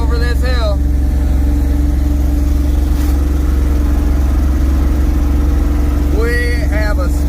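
A car's engine strains loudly and steadily as it climbs up and over a hill, a constant low drone. Brief voices break in near the start and end.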